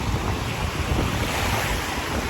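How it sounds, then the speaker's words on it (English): Large ocean waves break in a steady, loud roar on a Florida beach, with gusting wind buffeting the microphone throughout and no talking. "All these waves are huge."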